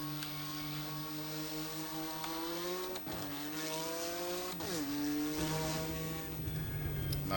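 BMW M2 CS engine in the Automobilista 2 racing game at Donington, a steady strong engine note sweeping up and dropping sharply on gear changes, close and continuous.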